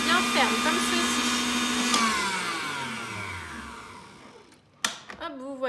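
A Cooking Chef kitchen machine whisks meringue at maximum speed, a loud steady motor whine with high whirring tones that winds down near the end, followed by a few brief clatters.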